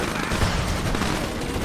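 Dense gunfire rattles through a Command & Conquer 3: Tiberium Wars battle, a loud continuous fusillade of overlapping shots with no clear gaps.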